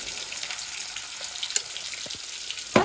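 Bottle gourd leaves frying with salt, turmeric, chilli powder and sugar in a pan, a steady soft sizzle with a few faint clinks of stirring and a sharper knock near the end; no talking.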